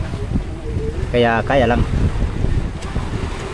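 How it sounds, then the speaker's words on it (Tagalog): Steady Amihan monsoon wind buffeting a boat at sea with 5 to 6 foot waves, a rough rushing roar with microphone wind noise, while someone speaks briefly over it. "Amihan ang mayral na hangin ngayon"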